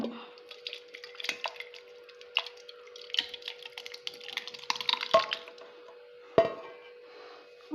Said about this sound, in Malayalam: അങ്ങനെ മിക്സിയിലേക്ക് ഒഴിക്കുകയാണ്